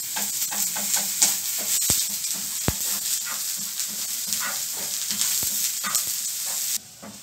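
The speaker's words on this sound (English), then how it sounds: "I'm slightly going to fry this till they become translucent" Sliced onions fry in a pan, a steady close sizzle with scraping stir strokes and a couple of sharp utensil taps, ending abruptly.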